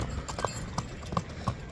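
Hooves of a bay horse with a white blaze clip-clop in a steady walking rhythm, about four distinct strikes on hard ground, close by over faint background noise.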